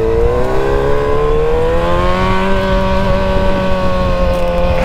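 A Honda XRE 300 motorcycle engine runs close by with a loud, steady whine that climbs slowly in pitch as it revs, holding continuously for several seconds without any voices.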